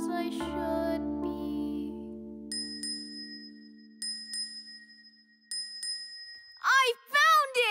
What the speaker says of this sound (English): I sure am feeling lucky, 'cause I've got this bell with me.